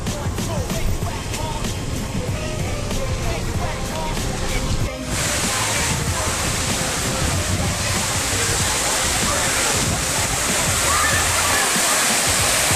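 Steady rushing flow of water in Charleston, a constant dense wash that swells slightly louder partway through and carries on without pause.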